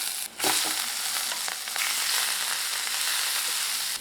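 Coriander leaves sautéing in a hot pan, a dense, steady hiss of frying heard up close, with a brief stirring scrape near the start and no voices.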